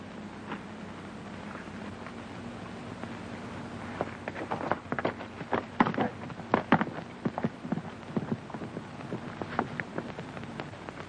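Hooves clip-clop on hard ground as horses move off, a quiet start building into a cluster of irregular clopping.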